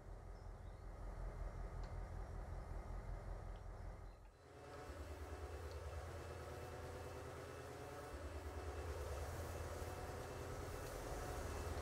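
An electric commuter train in the railway game Transport Fever 2 rumbles steadily at a junction, a low continuous rolling drone that dips briefly and then resumes, quiet and without speech.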